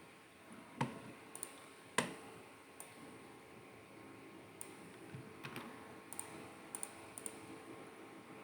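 Sparse keystrokes on a computer keyboard while a MOTD banner is entered in a Packet Tracer network exercise. Scattered clicks and a few sharper taps come over a steady hiss, close and fairly quiet.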